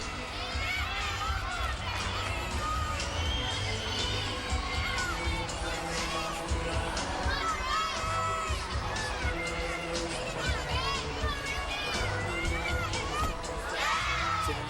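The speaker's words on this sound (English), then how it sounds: "It's an enormous crowd here tonight in Tuscaloosa." Enormous arena crowd at a 2010 NCAA women's gymnastics meet in Tuscaloosa, Florida against Alabama, a dense sustained roar of cheering with high shouts and whistles rising throughout.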